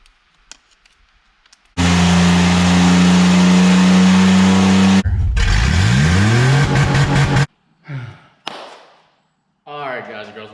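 A lifted Corvette's engine is held at a loud, steady high rev, then sweeps up and down as the throttle is blipped, followed by short sharp revs and gaps of near silence.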